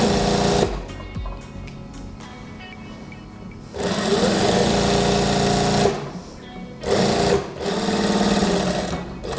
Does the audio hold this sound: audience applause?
no